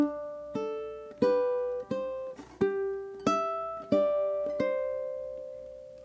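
A ukulele is fingerpicked through a full measure of steady eighth notes, about ten clean plucked notes that ring into each other at an even, moderate pace, close and clear with no talking.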